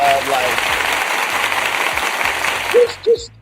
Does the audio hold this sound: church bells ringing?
no